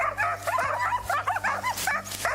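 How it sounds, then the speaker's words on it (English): Hunting dogs used against wild boar in Russian cornfields bark and yelp in a rapid, excited series, close and loud, mixed with whiny yips over a low background hum. "hunting dogs."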